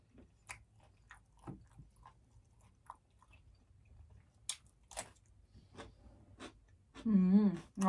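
Close chewing and biting on a large seafood platter with lobster and abalone, soft wet crunches and squishy bites coming in irregular bursts, with a louder burst near the end.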